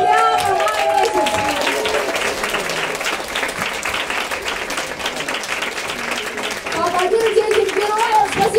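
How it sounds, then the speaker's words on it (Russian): A concert audience at a children's creativity palace in Anadyr bursts into sustained, loud applause, a dense wash of many hands clapping that runs the whole stretch, swelling slightly toward the end. "Аплодируйте этим героям"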